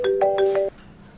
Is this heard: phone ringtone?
yes